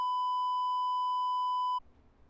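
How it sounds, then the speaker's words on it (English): A single steady electronic alarm tone sounds loud and unbroken for nearly two seconds, then cuts off abruptly into quiet low room noise. "Beep, beep, beep, beep, beep, beep. Turn on the alarms."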